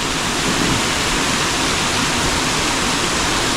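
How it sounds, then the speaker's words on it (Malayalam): Steady broadband roar of a waterfall at Baba Dhansar after rain, close and loud, filling the whole stretch with constant rushing water and no voices. "തൊട്ടടുത്ത് ഈ ഒരു വെള്ളച്ചാട്ടമാണ് ഇവിടുത്തെ മെയിൻ ഹൈലൈറ്റ്."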